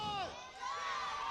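A wrestling crowd cheers for John Noble as a loud, steady roar of shouts and whistles fills the hall, with high voices rising and falling over it.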